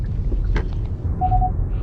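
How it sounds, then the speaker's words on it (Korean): A 2020 K9's lane departure warning gives one short electronic beep over the low, steady rumble of the car cabin while driving. "차선 이탈하게 되면 얘는 경보음하고"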